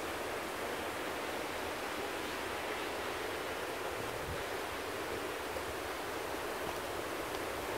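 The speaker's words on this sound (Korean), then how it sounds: "물소리가 많이 커진 거 보니까 비도 많이 늘긴 늘은 것 같아요" A steady, loud rush of a valley stream swollen by overnight heavy rain fills the whole clip, broad and constant with no pauses.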